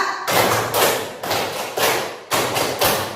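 Students in a classroom clapping game clap in unison in three sets of three, six sharp loud strikes in a steady rhythm with a slight pause between sets, each ringing briefly in the room.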